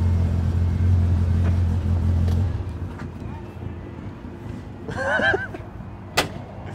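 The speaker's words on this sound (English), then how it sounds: "It don't even sound like a side-by-side, it sounds like a car." A Polaris Pro R side-by-side's deep engine idles steadily, then cuts out, leaving quieter background noise with a brief voice and a sharp knock near the end.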